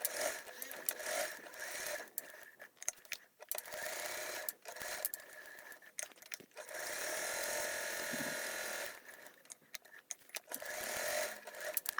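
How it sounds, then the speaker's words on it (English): A sewing machine top stitches along marked lines on an insulated tote bag, its motor running in bursts of steady whirring with short pauses between runs, plus one longer continuous stretch near the end. "And we are top stitching on those lines if you did draw it on"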